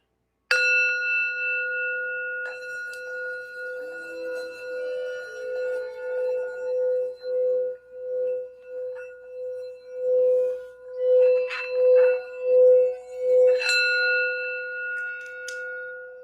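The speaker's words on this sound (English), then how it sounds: "I just wanted to do a quick sound bell for healing" A single sound bell is struck, its clear tone ringing out, followed by a run of softer repeated rings with a shimmering sustained hum; no talking.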